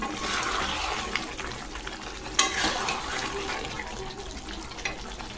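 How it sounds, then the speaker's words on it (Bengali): Chicken sautéing in a pan before any water is added, a steady close sizzle with occasional stirring scrapes and clinks, with no talk over it. "চিকেনটা কষা হচ্ছে, এখনো জল পড়েনি।"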